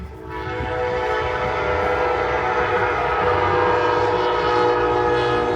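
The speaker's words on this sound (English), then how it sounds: "Got the train going by over there" A train passes near a car meet, its heavy rolling rumble swelling in and staying loud throughout, with sustained horn-like tones riding over the roar and no voices.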